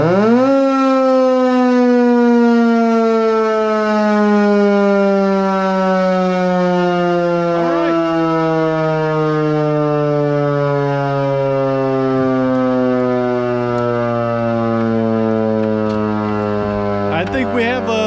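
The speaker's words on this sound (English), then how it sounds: "I think we have a successful round of maintenance on this siren." A civil defense siren in the Poconos runs on AC power during a maintenance test, a loud sustained multi-tone wail that holds steady and slowly sags in pitch over nearly twenty seconds.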